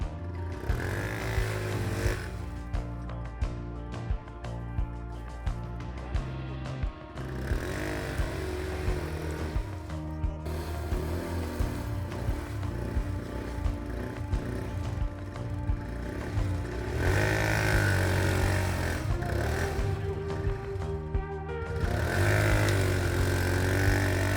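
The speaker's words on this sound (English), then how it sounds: "We see both tracks rotating, even when one of them is spinning in snow." A homemade tracked ATV with metal-hooked tracks and a friction clutch crawls through a snowy obstacle, its engine droning steadily and close, with revs rising and falling throughout.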